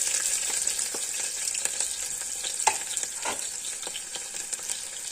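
Onion fries in hot oil with fenugreek seeds for a green pumpkin curry, giving a steady close sizzle with scattered crackles and soft stirring scrapes throughout, no voices.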